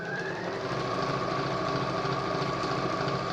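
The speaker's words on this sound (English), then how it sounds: "I'm coming up to the stitch line, do my backwards" Sewing machine stitching a fabric pencil case, a steady close mechanical whir with a rapid even needle rhythm running continuously without pause.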